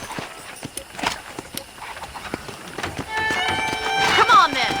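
Horse hooves clip-clop in the Western video game Red Dead Redemption, a run of distinct hoofbeats under game dialogue, with the scene sound swelling louder toward the end.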